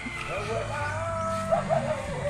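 A small dog yaps a few times nearby, sharp and high, mixed in with people talking over it.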